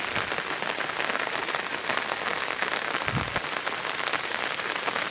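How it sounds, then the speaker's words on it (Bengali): Heavy rain pours down in a steady, dense patter, with rainwater flowing, a constant close wash of sound with no break or voices. "এই পাশ দিয়ে এই পাল দিয়ে বৃষ্টির পানি বের হচ্ছে"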